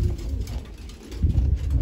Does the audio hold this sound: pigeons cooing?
yes